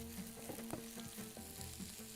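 Onions and curry leaves fry in a pan for a Bahraini shrimp massli, giving a steady close sizzle with some light stirring clatter and no voices.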